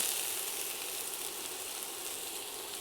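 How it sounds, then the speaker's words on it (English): Onions sizzle steadily in a pan on medium-high heat, a constant bright hiss of frying with no voices. "If it's sizzling, you know it's hot enough."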